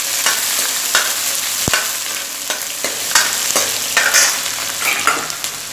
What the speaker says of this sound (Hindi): और गैस को मीडियम कर देंगे ताकि अच्छे से प्याज और हरी मिर्ची भून जाए।